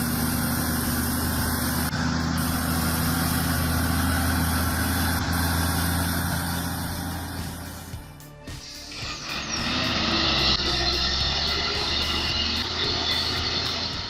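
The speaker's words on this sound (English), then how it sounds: "The Mercedes logging truck strains uphill, its engine faltering as if battling for every meter" A Mercedes logging truck hauling heavy timber up a steep hill in Kapit, Sarawak, its engine droning steadily and loudly, briefly dipping before roaring back.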